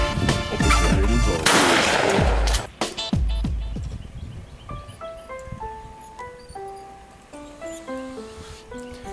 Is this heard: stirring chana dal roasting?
no